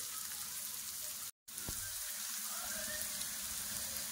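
Onions fry in a pan with a steady, close sizzling hiss that runs throughout, broken only by a brief dropout.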